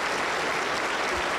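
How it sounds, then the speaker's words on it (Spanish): Church congregation at a Pentecostal service in Huancayo applauding, a dense, steady wash of clapping from many hands that fills the whole moment without pause. "Aplauso para el Señor Jesús."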